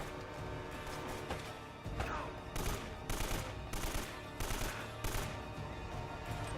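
Gunfire in the video game Uncharted: loud bursts of automatic fire and shots in rapid clusters, repeating in several volleys over a continuous noisy battle background.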